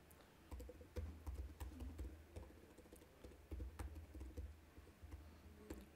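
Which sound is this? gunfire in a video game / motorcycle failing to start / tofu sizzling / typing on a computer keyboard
typing on a computer keyboard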